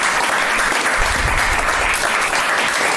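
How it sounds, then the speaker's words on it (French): A studio audience applauds steadily, a dense and loud wash of clapping that stays even from start to finish, with a faint low rumble underneath and no voices on top. "Pilleur d'État, sous vos applaudissements, Philippe Pasco."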